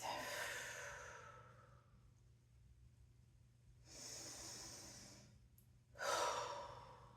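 Slow breathing during a yoga neck stretch: a long soft exhale that fades out, a pause, then a deep airy inhale and another exhale, close and quiet with no speech.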